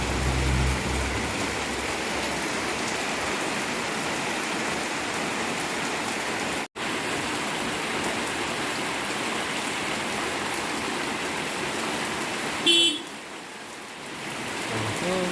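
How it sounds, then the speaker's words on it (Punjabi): Steady heavy rain pours down in a dense, continuous hiss that barely changes, with a brief shift near the end. "ਲੋ ਜੀ ਆ ਗਿਆ ਮੀਂਹ"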